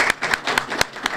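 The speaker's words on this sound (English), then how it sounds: "Another round of applause." A handful of distinct claps ring out at a library poetry awards event, about seven sharp separate hand claps spaced unevenly in a brief burst, fairly close and loud.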